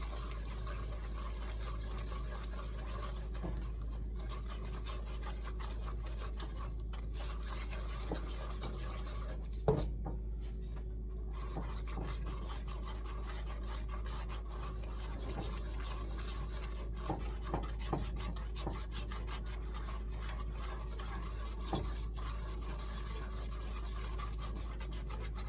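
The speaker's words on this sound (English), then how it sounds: "bring this to a boil. Stirring constantly." Apple pie filling stirred constantly in a pot as it comes to a boil, giving a steady soft scraping and rubbing with faint clinks against the pot, close and continuous with no talk.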